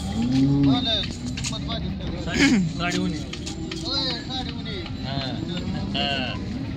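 Cows moo repeatedly, near and far, over a busy crowd of people talking at the Modnimb cattle market, with occasional hoof clatter in the background.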